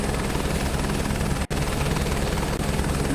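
Loud, steady rotor thrum of a helicopter flying in Microsoft Flight Simulator 2024, constant and close with a dense droning beat, broken by one momentary dropout, no talk.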